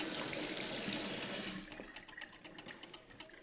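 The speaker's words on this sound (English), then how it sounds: "I'm just wash my hands real quick." Water runs from a kitchen tap as hands are washed, a steady loud splashing stream for about a second and a half that then cuts off, leaving faint drips and trickles.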